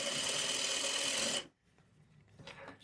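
A sewing machine stitches two pieces of fabric together in a steady, close whirring run for about a second and a half, then stops abruptly, leaving faint handling noise.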